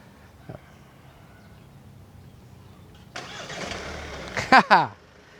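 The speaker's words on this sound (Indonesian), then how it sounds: "Sekarang mobil sudah menyala" Quiet ambience gives way to a 2021 Hyundai Santa Fe engine cranking and catching, followed by a couple of sharp revs and a voice speaking briefly.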